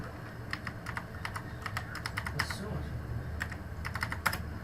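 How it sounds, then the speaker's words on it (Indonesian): Fingers type numbers on a computer keyboard in a Microsoft Excel spreadsheet, a close run of crisp key clicks in quick bursts with short pauses, heard over a quiet room hum. "Ini kan mengetik secara manual."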